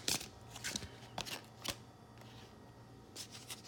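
A deck of tarot cards being shuffled close by, quiet riffling bursts of papery flutter with short gaps between them.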